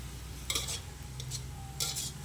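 Glass noodles with cabbage, spring onion and tomato being stir-fried in a pan at home: a few quiet scraping and clinking strokes of a utensil against the pan over a steady low hum.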